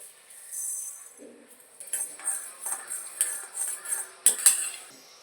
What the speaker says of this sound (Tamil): இப்போ வெந்தயம் போடுறாங்க